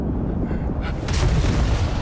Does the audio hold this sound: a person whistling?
no